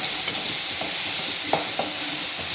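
A spoon stirs chilli and ground onion in a hot pan for fish curry, with steady sizzling frying throughout and a few soft scrapes and taps of the utensil.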